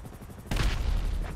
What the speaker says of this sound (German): hier wird geschossen